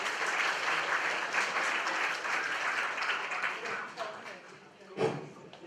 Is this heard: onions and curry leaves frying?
no